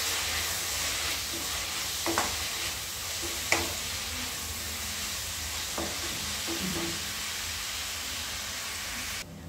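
Chopped tomato sizzling in a pan for pasta, a soft steady frying hiss with occasional stirring clinks and taps, fairly quiet and without talk.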